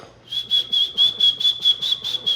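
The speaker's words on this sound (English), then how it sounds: "So around here, we like to whistle if it's official." A person whistling a steady high note in a series of short, evenly spaced blasts, close up and clear.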